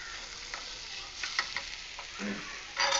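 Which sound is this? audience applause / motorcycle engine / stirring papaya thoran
stirring papaya thoran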